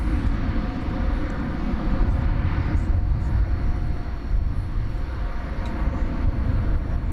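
Qantas airliner taking off at DFW Airport at night, a continuous deep rumbling engine roar heard from a distance, steady and broad with no distinct peaks.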